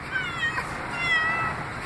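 A pet cat meows twice in a cage, two clear, close, drawn-out calls about a second apart against a quiet room.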